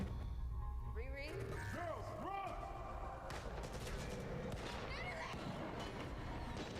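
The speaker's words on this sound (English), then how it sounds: "The slow-mo of the bullets hitting the wall." Gunfire and bullets striking a wall in a scene from the Marvel series Ironheart, dense bursts of shots and impacts in a busy mix with voices talking over the action.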